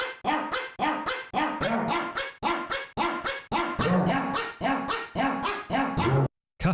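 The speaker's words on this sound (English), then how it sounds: "the instrument is now dog" Dog barks played as a musical instrument in a quiz tune, about two dozen sharp barks at different pitches in a quick rhythmic melody, loud and close, with a brief silence near the end.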